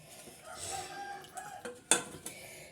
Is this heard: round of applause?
no